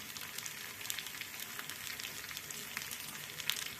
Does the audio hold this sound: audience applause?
no